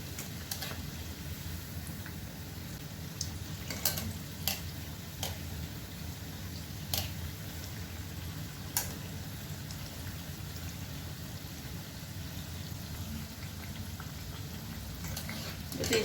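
Onion and mixed vegetable pakoras frying in hot oil, a soft steady bubbling sizzle with scattered small pops and crackles, faint and continuous without any talk.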